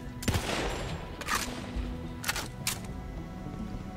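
BB gun firing in the Borderlands 3 shooter game, several sharp cracking shots at irregular intervals over a busy rumbling background.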